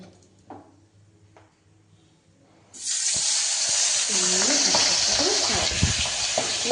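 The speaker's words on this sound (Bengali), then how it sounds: "এবার মাছগুলো একে একে ছাড়বো আমি আর পাবদা মাছ কিন্তু খুব ফাটে" Pabda fish slid into hot oil in a wok set off a sudden loud, continuous sizzle after a quiet start, with sharp spluttering pops crackling through the frying.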